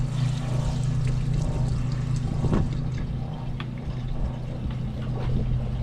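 An antique wringer washing machine squeezing water out of laundry in a remote Alaskan home, its motor droning loudly and steadily while a continuous pouring trickle runs beneath, close up with no voices.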